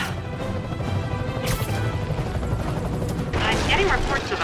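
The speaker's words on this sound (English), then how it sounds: "I'm getting reports of a helicopter with a wrecking ball." A helicopter swinging a wrecking ball smashes through things in the Spider-Man PS4 video game, with loud crashing impacts and a rolling rumble, plus bursts of noise near the middle and end over a busy background.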